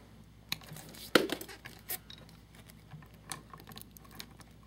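Electrical wire is snipped to length with cutters, giving one sharp clipped snap among a few faint ticks and light handling noises in a quiet room.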